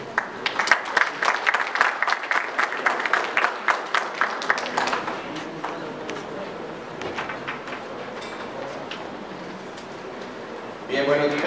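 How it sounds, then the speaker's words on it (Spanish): Conference audience applause that starts as distinct, fairly strong claps and then thins into scattered, fainter clapping before fading into room murmur. Some low voices sit underneath. "Un aplauso, por favor."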